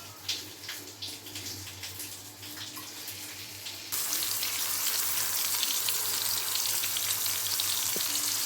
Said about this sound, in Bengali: এইদিকে পটল ভাজা হচ্ছে